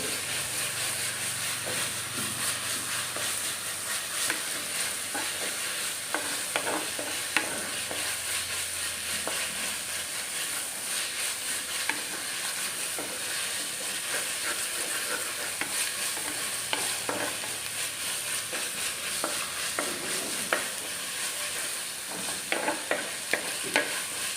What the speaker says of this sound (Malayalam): ഇതെല്ലാം കൂടെ നന്നായിട്ടൊന്നുകൂടി ഒന്ന് വഴറ്റി